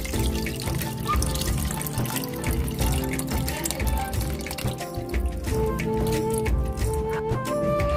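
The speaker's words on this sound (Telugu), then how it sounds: "చింతపండు పులుసు కూడా వేసుకుందాం" Tamarind juice is poured into a simmering dry fish and egg curry, a continuous liquid pouring and splashing at close range, with no talking.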